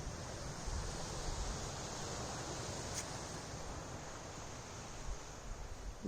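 A small waterfall seeping from bushes along a forest trail in Goa, heard as a continuous rushing hiss of water, steady and near, with a single faint click near the middle and no talking.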